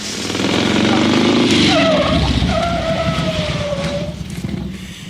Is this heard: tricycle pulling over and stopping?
yes